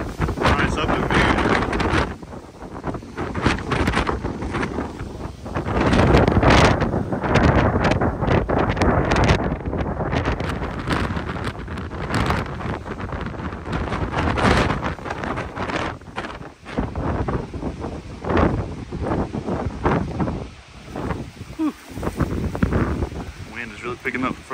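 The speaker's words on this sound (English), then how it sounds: "Wind is really picking up the further we go." Strong gusting wind on an exposed mountain hiking trail on Grandfather Mountain, North Carolina, roars and buffets the microphone continuously throughout, with loud surges and brief lulls.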